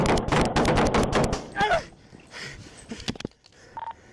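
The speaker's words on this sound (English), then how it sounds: "Shots fired!" A rapid volley of gunshots erupts at close range during a police traffic stop with a suspect in a car, dense sharp bangs for about a second and a half, then scattered fainter shots, thumps and a short tone.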